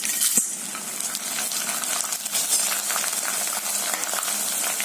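Masala puri frying in hot oil fills the space with a steady close sizzle and crackle that holds even throughout, with a small clink near the start.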